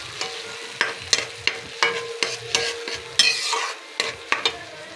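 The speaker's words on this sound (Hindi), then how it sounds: "प्याज में हमने टमाटर ऐड कर दिए हैं। तो हम थोड़ी देर पकाएंगे।" Tomato puree cooking with onions in a pan for shahi bhindi masala, heard as a steady close sizzle with repeated scraping and stirring strokes in an uneven rhythm.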